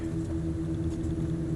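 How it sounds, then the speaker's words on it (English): Steady drone of an aircraft engine being throttled back in Microsoft Flight Simulator 2024 during a strong crosswind, a constant low hum with a faint rise at the end and no voices. "I'm going to drop the right engine back to 30."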